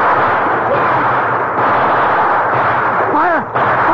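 In a radio drama, a gunfire sound effect booms as a heavy, rumbling barrage that rolls on steadily and loudly, with a voice calling out briefly near the end.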